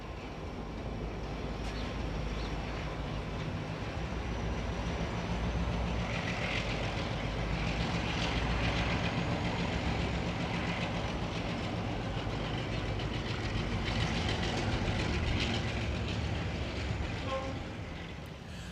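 A train rumbles steadily past on a Chicago railroad line, a continuous broad roar holding at an even level for nearly twenty seconds before easing slightly, with no voices.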